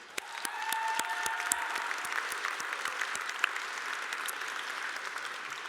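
Audience applause at the Blossom Ball 2023 gala: a dense, steady patter of many hands clapping at moderate distance, fairly soft, sustained evenly for several seconds with a few sharper individual claps standing out.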